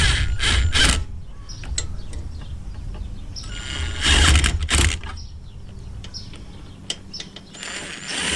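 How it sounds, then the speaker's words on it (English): A small 1/4-inch impact driver fitted with a 3/8 adapter works on bolts on a Cub Cadet SR621 engine head. It gives two short, loud rattling bursts close by, separated by quieter clicks and handling noise. "Got my little 1/4 inch impact here with a 3/8 adapter on it."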